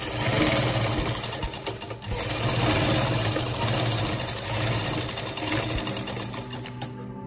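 A sewing machine runs fast and steady, stitching a strip of baby dress fabric: a close, loud, continuous mechanical whirring with a rapid, even chatter of the needle.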